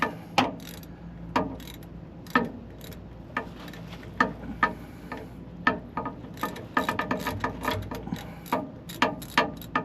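Ratchet clicking as it turns a 15mm socket on a 2012 Dodge Ram 3500 drive shaft, a steady series of sharp close ratcheting strokes that speed up toward the end, with no talking.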